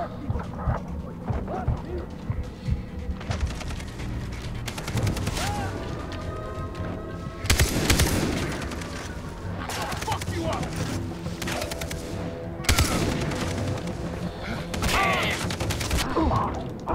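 Enemy shotgun fire in the Far Cry 3 video game: repeated loud, booming blasts at irregular intervals over a busy game soundscape, with no speech.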